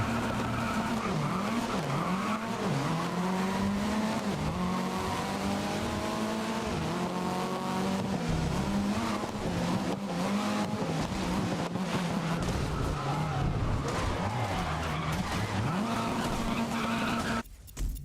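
Race cars in GRID (2019) rev and accelerate off the line together, a dense roar of engines with rising and falling pitch sweeps and tire squeal, loud and continuous throughout.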